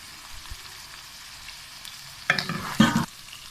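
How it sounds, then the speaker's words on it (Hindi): Spices for aloo gobi stirred in a frying pan: a steady low sizzle, then two short bursts of spoon scraping through the oil near the end, close and fairly loud. "मसालों को अच्छी तरह मिक्स कर लेंगे।"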